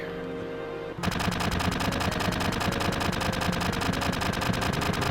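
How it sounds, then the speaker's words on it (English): Gunfire in the video game Final Fantasy VII, starting abruptly after a second of quiet and continuing as a loud, rapid, evenly repeating stream of shots. "And dude gets shot in the back."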